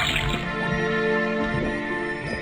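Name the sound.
liquid from tapped faucet, Detective Grimoire video game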